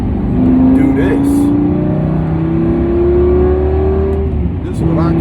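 Lamborghini Gallardo engine revving while driving, a loud, continuous engine note that climbs steadily in pitch and then dips, with a fresh rise near the end; a voice speaks briefly over it.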